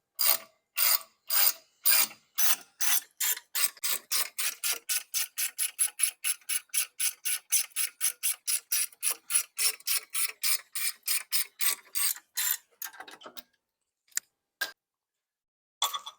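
A hand ratchet clicks in quick, even strokes while loosening the rear brake caliper bolts or pins on a 2003-2009 Toyota 4Runner. Dozens of crisp, close clicks run steadily, then slow and thin out into a few isolated ticks.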